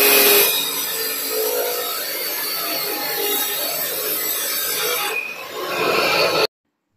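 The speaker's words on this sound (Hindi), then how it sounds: "मेरे घर के बगल में ही कंस्ट्रक्शन का काम हो रहा था" Construction work next door: a loud, continuous rasping, sawing-like grind that runs steadily for several seconds, dips briefly, then surges again before cutting off abruptly.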